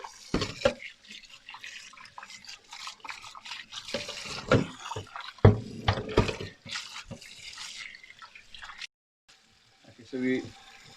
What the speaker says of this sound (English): So we give it a good wash.